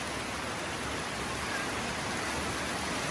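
Rain falls in a village around dusk as a quiet, even hiss that continues without pause or change.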